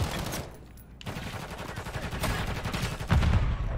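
Grenade explosions in a video game: a rapid burst of blasts and crackling gunfire-like reports, loud and continuous, with a heavier thump near the end and no talking.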